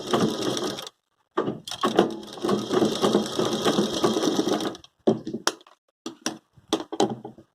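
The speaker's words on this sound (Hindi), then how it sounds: "इसको हम ऐसे पलट करके और किनारे से सिलाई लगा देंगे ताकि ये लेस हमारी बाहर की तरफ दिखाई देगी।" A sewing machine stitches a lace edge onto a cotton dress, running in several loud close bursts of rapid whirring separated by brief pauses, with short stop-start runs near the end.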